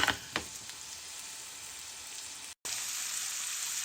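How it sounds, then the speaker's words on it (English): Beef burger patties frying in oil in a pan on medium-high heat, a bright continuous sizzle with a few louder spits at first and a brief dropout partway through. "Place 2 of the patties into the pan and fry on medium-high heat for 1 minute."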